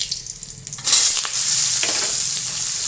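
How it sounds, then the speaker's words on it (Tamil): Onion sautéing in a pan after tamarind, for a drumstick-leaf chutney: a loud, steady sizzle swells up after a quiet first second and holds, with soft stirring scrapes and no talking. "புளி வதக்கி எடுத்துட்டு வெங்காயம் போட்டுக்கலாம்."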